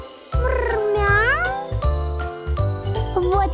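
A cartoon cat meows in a children's song, with several drawn-out, gliding meows over a bouncy musical backing.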